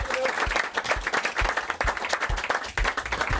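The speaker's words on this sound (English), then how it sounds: "Give Simon a big round of applause." Capacity crowd applauding Simon Milton, former Brighton and Man City player, at a live show: dense, loud, continuous clapping with sharp individual claps standing out, steady throughout with no talk over it.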